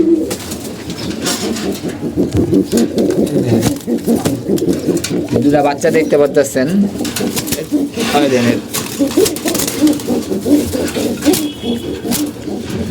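Pigeons coo steadily in a loft, a near, continuous cooing under someone talking throughout.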